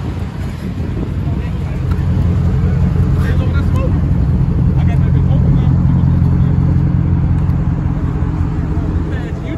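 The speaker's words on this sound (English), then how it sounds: "This how the fuck you spin a tire" An SRT8 muscle car engine roars at sustained high revs while spinning a tire, a loud, continuous rumble with wind buffeting the microphone.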